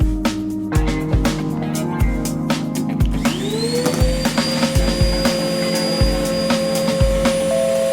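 Biscuit joiner motor whining up and running steadily while cutting biscuit slots in wood, a loud close hum with repeated short cutting thumps and clicks.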